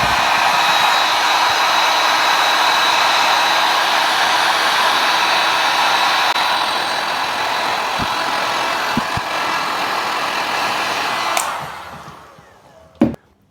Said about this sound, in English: I'm going to use a heat gun because it's more controllable heat